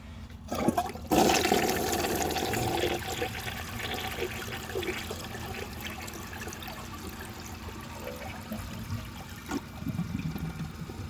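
A 1982 American Standard Plebe toilet flushes with a dish towel in the bowl, a loud close rush of water that surges at once and then settles into a steady draining swirl and trickle, with no voices.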